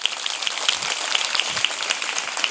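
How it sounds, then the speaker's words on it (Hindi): A classroom of students at a school in Rajgarh claps for their teacher, a dense, steady patter of many hands filling the room with no pauses and no talk over it. "अपने टीचर के लिए सम्मान में तालियां बजाइए ज़रा एक बार।"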